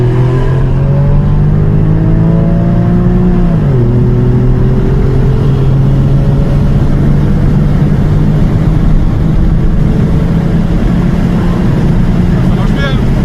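A Porsche 911 Carrera type 996 engine idles loud and close, then rises briefly in a rev and settles back to a steady hum, with voices talking over it.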